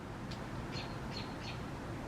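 Faint, sparse bird chirps, four short high calls spaced about half a second apart, over a steady low background hum.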